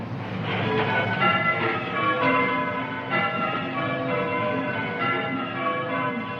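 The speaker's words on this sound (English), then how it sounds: "now listen to the bells, which for 500 years have called the people of St Hilary to praise and prayer" Church bells of St Hilary, Cornwall, ringing in a 1934 BBC broadcast, a steady overlapping peal of several bells sounding continuously with the thin, hissy tone of an old recording and no voices.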